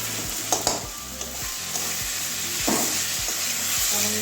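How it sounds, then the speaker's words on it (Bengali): Mango pieces stir-fried with salt in a pan sizzle steadily while a spatula scrapes and taps against the metal in an irregular rhythm, close and moderately loud. "আমটা ভালো করে কষিয়ে নেব পরিমাণ মতো লবণ দিয়ে দিচ্ছি"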